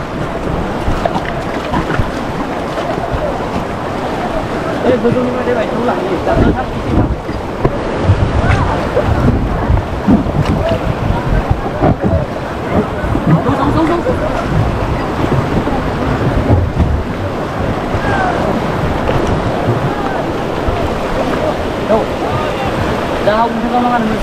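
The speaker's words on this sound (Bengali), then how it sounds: "তো আমরা বসে পড়েছি রাফটিং বোটে।" Rafting boat on a swift river near Bogamati, with steady rushing water and wind noise throughout, loud and close, and people talking over it.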